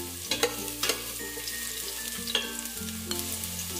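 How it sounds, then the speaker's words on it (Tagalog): Garlic sautéing in a hot pan for a salmon-head sinigang, a steady close frying sizzle broken by a few sharp utensil clicks and scrapes, with no talking. "gisa lang po natin tong ating bawang"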